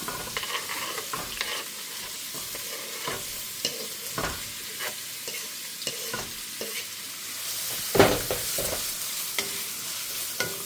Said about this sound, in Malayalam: ഇതൊന്ന് വഴറ്റിയെടുക്കണം